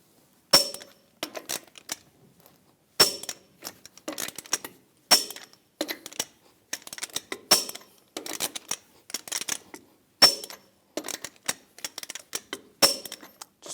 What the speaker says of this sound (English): Now we're going to torque the lug nuts to 140 foot-pounds in a cross pattern to tighten the wheel down evenly.